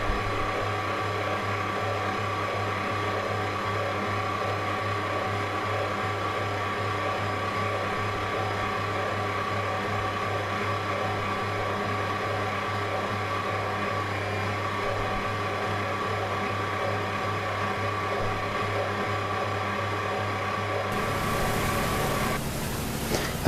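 Banana cake batter churns steadily in an electric mixer as sieved flour and bicarb go in a little at a time, a constant motor drone throughout with a brief clatter near the end.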